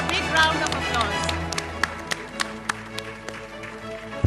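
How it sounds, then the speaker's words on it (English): Scattered, sparse claps ring out at a Value Education Olympiad felicitation ceremony honoring students, with a voice talking over the opening before individual claps continue alone. "Please, a big round of applause."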